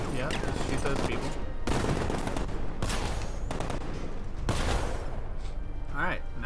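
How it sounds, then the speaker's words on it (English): Video game gunfire in dense, rapid bursts of automatic shots, loud and continuous with brief pauses between volleys, while a player talks over it. "Yeah, just shoot those people."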